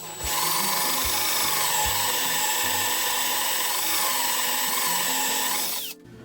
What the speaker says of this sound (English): you saw me drill the 1/2 inch hole for the magnet